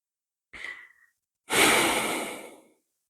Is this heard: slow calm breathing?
yes